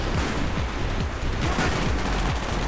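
Rapid gunfire from the Call of Duty Black Ops video game, dense overlapping shots and bursts rattling steadily throughout, loud and continuous with no talking.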